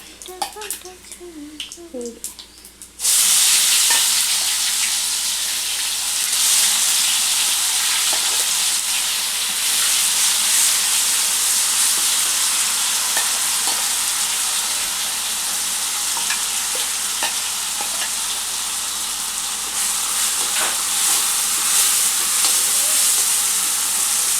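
Spice paste dropped into hot oil with mustard and cumin seeds bursts into a loud, steady sizzle that holds for over twenty seconds, after a few seconds of quieter popping seeds and stirring for an egg curry.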